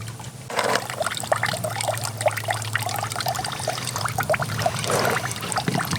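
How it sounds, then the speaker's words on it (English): Flood water pours and splashes steadily out of a flooded engine, a continuous gurgling stream with occasional heavier glugs, heard up close. "It's crazy how much water came out of that before oil."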